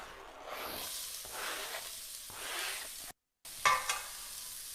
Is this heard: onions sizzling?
yes